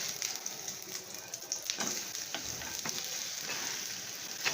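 Egg and lentil dalna frying in a pan as it is flipped over, a soft steady sizzle with a few brief scraping and stirring bursts, faint and close.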